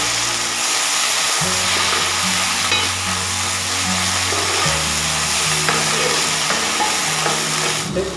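Ground masala paste stirred into browned onions in a hot pan for paneer ghee roast, a steady close sizzle with scraping spoon strokes throughout and no voices.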